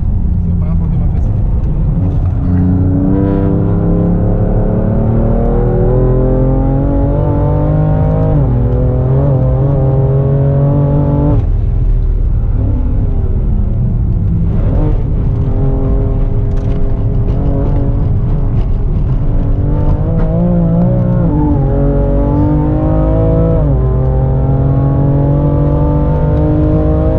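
A car engine drones loudly on the Nürburgring track, its pitch sweeping up and down through gear changes and lifts off the throttle, with people talking over it throughout.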